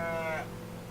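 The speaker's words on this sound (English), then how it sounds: "A sheep." A sheep in the video game OneShot gives a single short, nasal bleat that fades after about half a second, leaving a low background hum.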